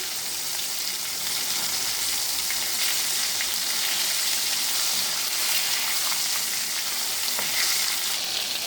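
Bombay duck (lote) fish pieces fry in a pan, a dense, even sizzle that stays loud and close with no pauses throughout.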